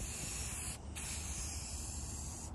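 Close, continuous aerosol hiss comes from a spray can laying 1K paint onto a Rhino-lined pro bass box, broken by one short pause partway through before the spraying resumes.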